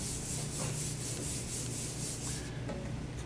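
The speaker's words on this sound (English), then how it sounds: "This is like actually the finest sandpaper you'll ever see." A woodwind reed is rubbed back and forth on very fine sandpaper, producing a continuous soft, close sanding hiss with gentle rhythmic strokes and no talking.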